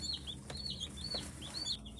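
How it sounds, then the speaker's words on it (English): A baby chick, sleeping and drying off under a warming light, gives faint high repeated peeps over a low steady hum, quiet and alone. "I got a sleeping little chickie"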